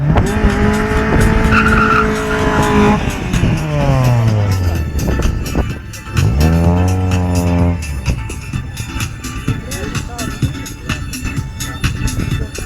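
Loud drag racing cars roar and rev on qualifying runs, their pitch sweeping up and down as cars launch and pass, with some tire noise.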